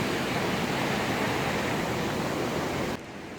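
Flash-flood water in a red rock canyon rushes in a loud, dense, steady roar close by, with no talking, easing abruptly near the end.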